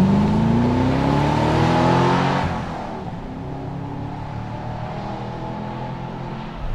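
A Chevrolet Camaro SS with a V8 engine roars close by, its pitch climbing, then fades into a lower, rumbling drone as the car moves off.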